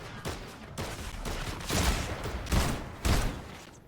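A player in a video game keeps firing on an enemy already downed, a quick string of loud gunshot bursts, several sharp cracks spaced irregularly over a few seconds with no talk.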